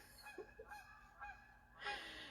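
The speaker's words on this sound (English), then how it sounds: "And here comes some more geese." Geese honking outdoors, several short calls close together, a few distinct honks followed by a louder rising burst against a steady background hiss.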